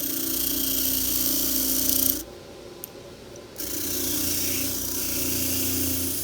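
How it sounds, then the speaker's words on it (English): A 5-inch crimped steel wire wheel from Harbor Freight's Warrior line spins loudly while scrubbing a wrench clean, a steady abrasive whir with a short quiet gap midway before the grinding resumes. "I guess I'll try cleaning out one of these wrenches."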